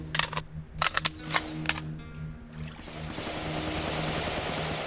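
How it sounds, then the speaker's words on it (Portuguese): Gunfire in the video game Rio Raised in Oblivion crackles in a few quick, sharp bursts of shots over a low background hum, then gives way to a steady rushing wash of game ambience. "Tá tendo tiro aqui."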